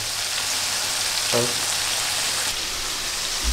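Food fries in a pan in a home kitchen in Italy, a constant dense sizzle throughout with a brief soft voice-like murmur partway through.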